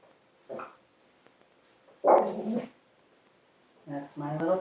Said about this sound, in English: That's my little puppy dog.